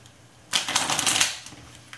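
Two decks of Phase 10 playing cards are riffle-shuffled, giving a sudden dense burst of rapid crisp flutter that lasts about a second and then tapers off, close and alone.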